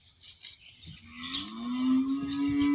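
A sick cow, unable to stand from stiff-leg fever, gives a single drawn-out moo that starts low, swells and holds steadily, close and clear with faint farm background and no speech.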